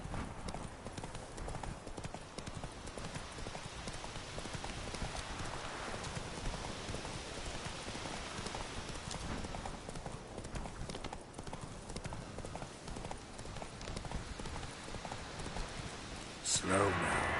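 The horse Roach trotting in The Witcher 3, with steady rhythmic clip-clop hoofbeats against a dense game ambience, close and continuous, with a louder burst near the end.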